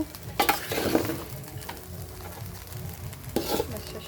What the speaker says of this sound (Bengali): এখন হচ্ছে রাইসগুলো দিয়ে নেড়ে চেড়ে আমরা জাস্ট নামিয়ে নিব